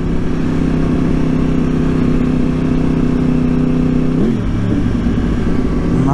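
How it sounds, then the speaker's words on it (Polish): A Yamaha R1 RN22 motorcycle engine runs steadily and loudly nearby with a smooth, even drone that dips briefly in pitch near the end before settling again, with no talking. "bardzo przyjemna charakterystyka pracy silnika, jeśli chodzi o wydobywający się dźwięk"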